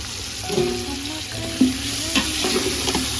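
Tomato and green chillies sautéing in a pot for mutton biryani make a loud close sizzle with repeated stirring scrapes and a few sharp clanks of a spoon against the vessel.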